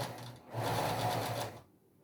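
Domestic sewing machine stitching fabric in a beginner sewing lesson, a steady motor whir rising after a brief pause, running close and loud for about a second before stopping.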